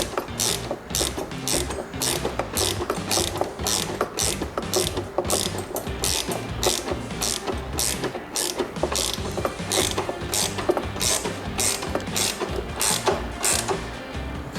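A ratchet wrench snugs down a bolt on a tie-down bracket of a 2022 Harley-Davidson Road Glide ST, giving a steady, close run of quick, evenly spaced clicks with no talking.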